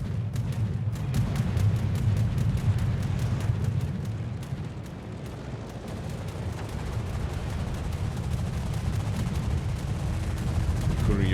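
Naval battle in the World of Warships video game, with a Yamato battleship under attack: dense, continuous low rumble of gunfire and explosions with rapid repeated bursts, loud and sustained throughout.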